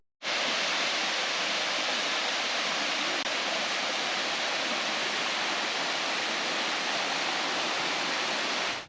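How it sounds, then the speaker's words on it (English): Nelson Falls, a large waterfall in Tasmanian rainforest, heard from its base as a loud, steady, broadband roar of falling water that never lets up. "we were soon at the base of the waterfall."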